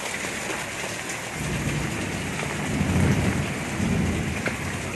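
Heavy rain from a Kalbaishakhi (nor'wester) storm pours steadily in Kolkata with no break, and low rumbles of thunder roll underneath, swelling and fading more than once.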